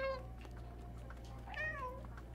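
A cat in the video game Stray gives two short meows, a quick high one at the start and a longer rising-falling one midway, heard close and fairly soft over a steady low background hum.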